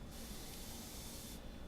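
Water runs into a glass holding cornstarch, a soft, steady pouring hiss that lasts about a second and is quiet.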